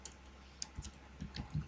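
Faint, scattered clicks of typing on a computer keyboard, a handful of soft irregular keystrokes in a quiet room with no talking.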